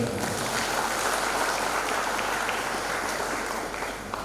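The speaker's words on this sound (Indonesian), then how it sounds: "Tepuk tangan dulu Ibu Ketua kita." An audience at an open graduation ceremony of a fisheries college in Sibolga applauds the chairwoman, a dense, even wash of clapping heard from a distance in a reverberant hall, steady and fairly soft.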